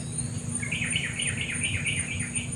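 A small bird chirps in quick repeated bursts, six or so bright notes in a row, heard faintly over a low background hum and a steady insect-like buzz outdoors.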